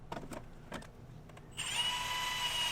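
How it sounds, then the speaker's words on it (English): A dull bit is driven by hand into thin sheet-metal tabs. A few short scraping knocks come first, then a steady, close, high-pitched whine of cutting, heard alone. "because I'm using a dull drill bit, it's hard to drill through"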